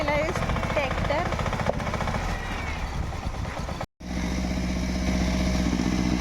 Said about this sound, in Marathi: हा बघा ट्रॅक्टर चालू केला